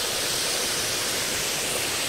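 A large waterfall in the Cserna river valley of the Cserna Mountains, Transylvania, near Herkulesfürdő, makes a dense, constant rushing roar of falling water, close and loud, with no voices over it.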